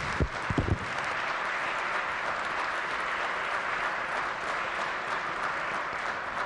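A few loud, close claps start off a broad round of applause in a state legislature chamber, then settle into steady, even clapping from many hands that continues without talk.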